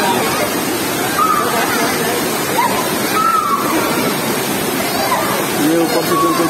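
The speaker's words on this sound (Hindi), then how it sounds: "ये ऊपर से बिल्कुल पानी आ रहा है और बड़ा साफ साफ पानी आ रहा" Clear water spills from above into a natural rock-rimmed stone pool, making a continuous close rushing and sloshing splash, with faint voices and a few thin higher tones drifting over it.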